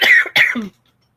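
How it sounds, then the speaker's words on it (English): A woman coughs twice in quick succession, close and loud, the harsh bursts ending in a brief throaty rasp before silence. "I've still got my cough, so the more I talk, the more I cough"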